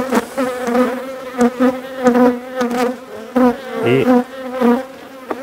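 Honeybees buzz in a dense, wavering hum around an opened hive while colonies are being worked and expanded, with strong, steady drone rising and falling close by; someone speaks briefly over it.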